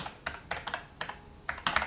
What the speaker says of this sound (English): So we'll have to type that in again and type in